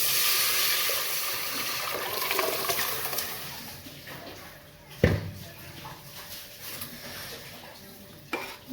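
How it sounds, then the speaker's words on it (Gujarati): Spices and oil for a dal tadka in a home kitchen sizzle with a loud hiss that fades over a few seconds. Pot clinks and a sharp clank follow. "દાળ વઘાર દઈએ હવે"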